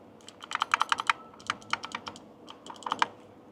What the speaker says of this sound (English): You can definitely hear the clicking